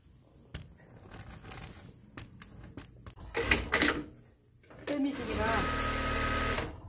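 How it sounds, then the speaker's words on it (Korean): A domestic sewing machine runs in short bursts, whirring and clattering rhythmically up close, with clicks and handling noises between runs and a steady stitching stretch at the end. "미싱 소리가"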